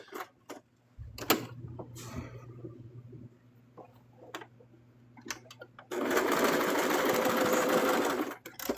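A home sewing machine stitches a mushroom slug plush, with scattered clicks and handling noises first, then a loud, steady whirring run of stitching for a couple of seconds before it stops.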